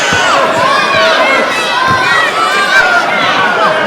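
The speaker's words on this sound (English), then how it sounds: "Storm with the big Yakuza kick, and this crowd has come unglued." A wrestling crowd at a cage match for the EPW championship cheers and screams wildly, a loud, dense roar of shouting voices that holds steady without a break.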